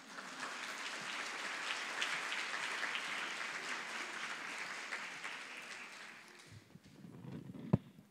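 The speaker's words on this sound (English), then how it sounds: "So just give her a round of applause." Audience applause at a school information session, a dense steady clapping from a crowd lasting several seconds before fading out, ending with a sharp knock.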